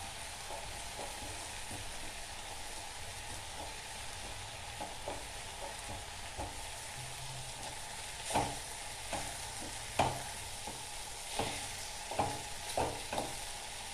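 Chopped onions sizzling softly in a pan as they are lightly roasted for a drumstick roast dish, with a steady low fry and scattered scraping stirs of a spoon, growing more frequent toward the end.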